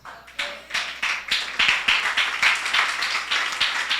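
Congregation in a church service breaks into applause, a dense wash of many hands clapping steadily and loudly for several seconds after a brief pause, with rhythmic peaks through the burst.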